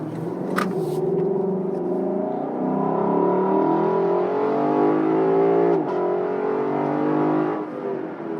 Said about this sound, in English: Yeah, that's hard acceleration.